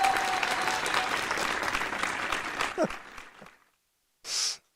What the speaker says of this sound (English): I give you all the applause we have